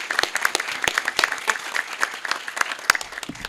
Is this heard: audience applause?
yes